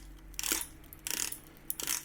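A Hasselblad A12 or C12 film back is wound through to the end of its roll, giving three short bursts of close ratcheting clicks spaced apart in a quiet room.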